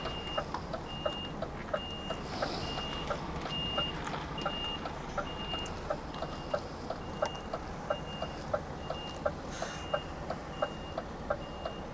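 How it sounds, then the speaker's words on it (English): A reversing truck's steady backup alarm beeps at an even rhythm for many repetitions over low engine rumble and traffic noise, fairly near and clear. "Now you can see I'm reversing back"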